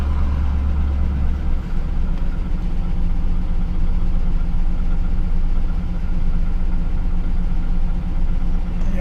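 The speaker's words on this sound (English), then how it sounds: "You also notice the nauseating engine noise, GM nap, coming from under the hood." A 2000 GMC Sierra engine idling with a rough mechanical noise from under the hood, a loud, steady low rumble with a continuous rhythmic knocking running throughout, close up and with no talking.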